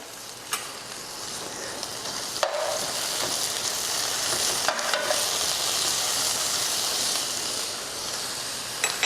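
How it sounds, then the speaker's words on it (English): Vegetables sizzle and fry steadily in a hot pan, with a continuous hiss throughout and a few brief clicks of stirring. "Our vegetables are going to start cooking."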